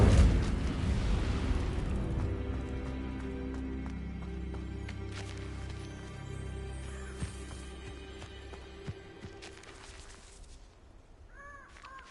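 An Incendio fire spell in the Hogwarts Legacy video game opens with a loud burst, then a long fading roar of flames. Crows caw over the tail and a few soft clicks follow.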